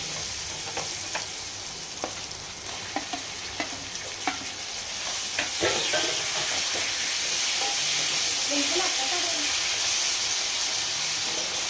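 A tomato drops into onions frying in a pan for a Telugu bottle-gourd curry, setting off a steady broadband sizzle that swells and holds after a few light taps and stirs at the start.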